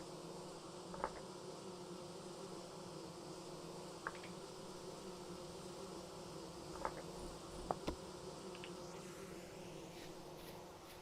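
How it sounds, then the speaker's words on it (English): Bees buzzing in the game Vintage Story, a faint steady drone under a quiet ambient bed, with a few soft clicks and taps scattered across the stretch. "That has to be the sound of bees."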